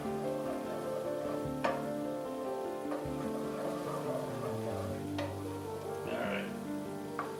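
Chopped onion frying in a pan gives a steady, dense sizzle that runs throughout, with occasional clinks and a brief voice speaking over it.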